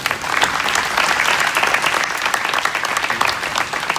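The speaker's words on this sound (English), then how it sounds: "students, give yourselves a round of applause for being selected to be in this program." Students at a Santa Cruz Emerging Leaders Certification Program commencement ceremony applaud themselves: a steady, full round of clapping from a crowd, loud and continuous throughout.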